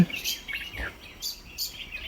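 Several quick, high bird chirps in short bursts, fairly faint and spaced out, with a quiet background in between.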